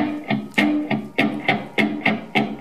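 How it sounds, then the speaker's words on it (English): A steady drum beat with sharp hits roughly twice per second, rich and slightly distorted, with a reverberant, driving feel and no voices. "That's a drum beat"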